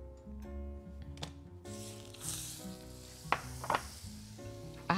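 A spoonful of butter sizzles in a hot wok, a soft, steady hiss that rises partway through and stays fairly low beneath tonal background music.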